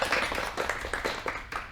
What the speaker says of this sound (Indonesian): Boleh kasih tepuk tangan lagi dong untuk kelompok 1